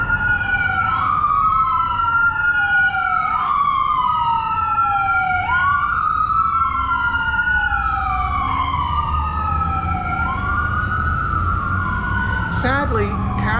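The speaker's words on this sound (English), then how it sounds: "I'll wait for the sirens. They're going to come through." Emergency vehicle siren wailing in repeated rising and falling sweeps as it passes through downtown Lancaster, loud and steady over traffic rumble, with a brief horn blast near the end and people talking in the background.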